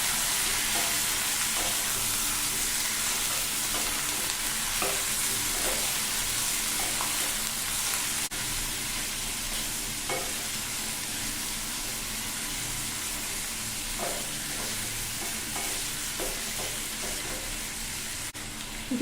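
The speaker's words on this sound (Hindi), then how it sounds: "चिकन को भी प्याज के साथ फ्राई कर लेंगे।" Chicken pieces frying with light-brown onions in a pan, a steady dense sizzle with occasional stirring scrapes running throughout, close and loud, no talking.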